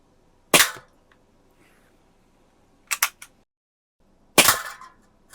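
Three sharp, separate metallic smacks of .177 pellets from a Daisy 853 air rifle striking a can, quiet gaps between them, the second a quick double hit.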